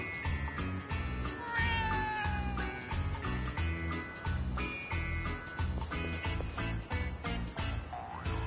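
Cat meowing in the video game Yakuza, repeated meows and mewls over a rhythmic thumping music bed, fairly close and clear throughout.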